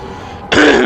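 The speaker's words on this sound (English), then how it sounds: "Sorry, I had to clear my throat." A single loud, abrupt throat clearing from a gameplay commentator playing Dark Deception Chapter 3, bursting out close to the mic right after a quiet stretch and lasting to the end.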